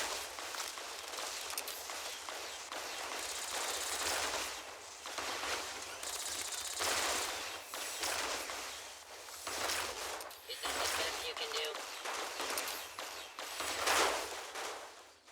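Pulse gun fire in Fallout New Vegas, repeated loud bursts of energy shots in uneven volleys, with running footsteps and game noise between them.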